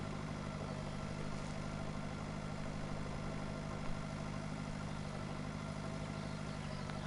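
A slow tractor engine in the Pure Farming 2018 farming game drones steadily at a low, even idle-like pitch for the whole stretch, close and continuous with no talk over it.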